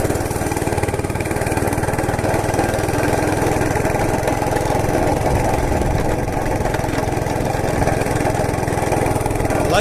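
A Monter Moto MMB80 gas minibike engine runs continuously nearby, a loud, steady buzzing drone with an even throb and no letup.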